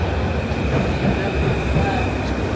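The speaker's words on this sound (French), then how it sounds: "Ah voilà le métro." Paris metro train pulling into a station, a loud continuous rumble of wheels on rails with a faint steady squeal above it, close and enveloping, with no clear talk.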